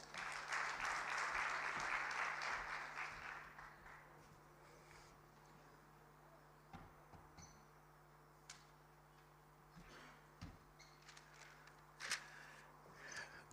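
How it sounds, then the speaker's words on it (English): An audience applauds at a formal budget review dinner, a burst of clapping that fades after a few seconds into a quiet room with scattered clinks and small knocks. "Let's give him another round of applause."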